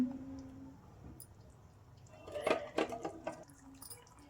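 Egg and green peas curry simmering in a pan, soft bubbling and popping that swells into a cluster of louder wet bursts midway, then settles back to a gentle burble.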